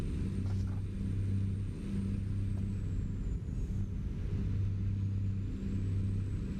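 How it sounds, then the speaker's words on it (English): Kenworth K100 cabover truck in American Truck Simulator, a deep steady diesel engine drone running continuously and fairly loud, with faint higher whine above and no talk. "The sound of the truck drowns the navigation out."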